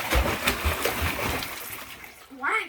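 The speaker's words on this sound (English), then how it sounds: "There's a lot of splashes, you know." Water splashes and sloshes in a home pool during play with pool toys, a run of bursty splashes under a child's and adult's voices, ending in a brief rising vocal sound.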